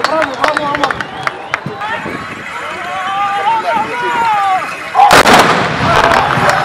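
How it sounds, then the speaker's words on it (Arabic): Traditional musket volley fired by riders at a Tbourida horse fantasia festival in Tiflet, Morocco, a loud simultaneous blast of gunfire near the end following galloping hooves, with an announcer talking over the scene. "ثاني طلقة رائعة جدا هنا"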